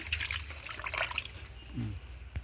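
Kitchen and vegetable waste mixed with water is strained and poured into a home biogas plant, giving a faint, brief trickle of liquid.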